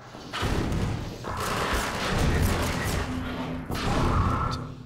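Heavy objects are ripped from a wall with the gravity gun in Half-Life 2, three loud crashing bursts with crunching thuds and rumbling debris in between, close and forceful.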